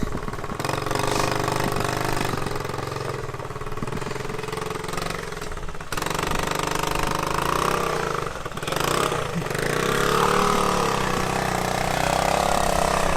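Classic Honda trail motorcycle running in snow, the engine droning steadily and close with rising and falling revs as it rides.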